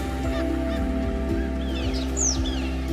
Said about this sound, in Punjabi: ਇਹਨਾਂ ਪੰਛੀਆਂ ਦੀ ਪਰਵਾਜ਼ਾਂ ਨੂੰ ਵੇਖਣਾ ਅਤੇ ਇਹਨਾਂ ਦੀ ਆਵਾਜ਼ਾਂ ਸੁਣਨਾ